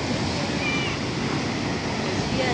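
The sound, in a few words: sea waves at the shore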